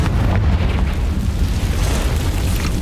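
The Confringo fire spell in Hogwarts Legacy sets off a loud, rumbling explosion whose deep, dense roar fills the whole moment without letting up, with no talking.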